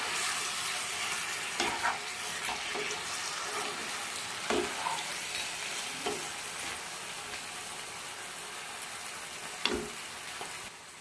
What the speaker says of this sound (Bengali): পাঁচ মিনিট হয়ে গেছে ঢাকনাটা খুলে নেব একটু নাড়িয়ে দেবো